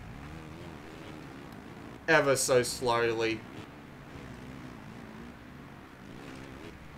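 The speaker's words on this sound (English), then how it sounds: "enjoy the relaxing melodies of 10 dirt bike engines" Dirt bike engines from the MXGP video game drone steadily in the background at low volume, a continuous motor hum, while someone briefly speaks over them.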